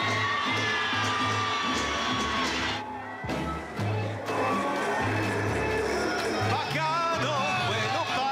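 A loud lucha libre wrestling crowd cheers and shouts continuously, whoops rising over a dense roar of voices with music underneath.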